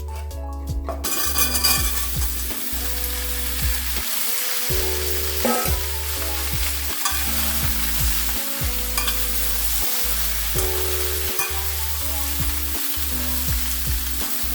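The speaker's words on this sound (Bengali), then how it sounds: "ফোড়নটা ভাজা হয়ে গেছে, এবার লাউগুলোকে আমি দিয়ে দেবো" Bottle gourd pieces frying in tempered spices for a bottle gourd and snakehead fish curry, with steady loud sizzling and repeated scraping stir strokes of a spatula against the pan, no talking.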